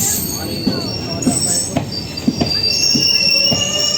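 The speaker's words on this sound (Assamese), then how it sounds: "এইফালে ট্ৰেইন আকৌ ষ্টাৰ্ট হৈ গ'ল যাবলৈ গৈ আছে" A train starting off again rolls along the track on the Tinsukia to Guwahati route, with a sustained high-pitched wheel squeal and regular rhythmic clunks from the rails, steady and fairly close.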